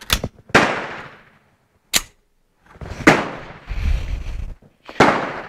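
Star BM 9mm Luger pistol firing about five separate sharp shots at uneven intervals, each cracking loud and close with a short outdoor echo tail.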